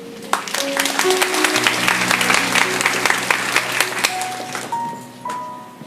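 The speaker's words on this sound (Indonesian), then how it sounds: "Oh, saya mau mendengarkan tepuk tangan untuk Tuhan." A church congregation applauds for God in a dense, sustained round of clapping, loud and close, with sustained keyboard music notes running underneath and the clapping thinning toward the end.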